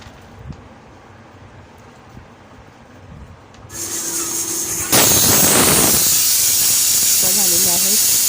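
A small pressure cooker on a kitchen stove lets out a loud, sustained hissing whistle of escaping steam that starts suddenly and keeps going steadily. Quiet kitchen sounds come before it, and someone talks in the background.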